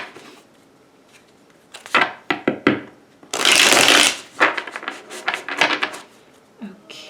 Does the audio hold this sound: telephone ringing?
no